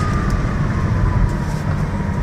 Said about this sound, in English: I'm going to give this a hard brake.